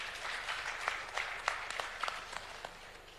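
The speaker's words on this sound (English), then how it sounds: "I think they need another round of applause," A crowd applauds at an African Islamic finance conference with steady, fairly faint clapping that carries on throughout, a few sharper claps standing out.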